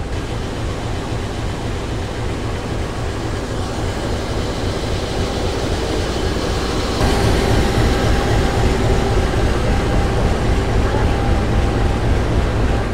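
The Rajabasa passenger train hauled by a CC204 locomotive rolls along, a loud, steady rumble and rhythmic rail clatter heard from inside the carriage that grows slightly louder halfway through.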